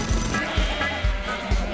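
Sheep bleat repeatedly in a steady rhythm, four loud calls about half a second apart, close by over a background of light music, in a promo for the Shaun the Sheep animated film.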